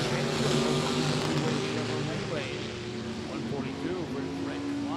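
Drag race cars at a hot rod reunion, including a 1967 Chevy Camaro and a 1955 Chevy Tri-5 with a 632 big-block, rev steadily at a distance as an announcer talks over the engines throughout.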